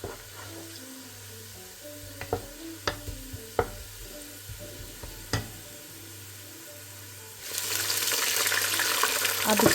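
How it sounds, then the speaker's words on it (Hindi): Water poured into a pot of frying vegetables for an aloo baingan pulao, with scattered stirring knocks and clinks, then a sudden loud, steady sizzle and hiss as the water hits the hot pan. "पानी शामिल करूँगी।"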